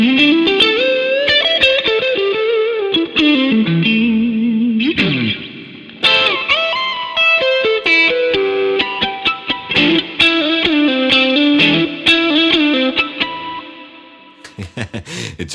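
An overdriven electric guitar plays a melodic line with a warm, slightly gritty tone and a reverb tail, with a few brief pauses between phrases.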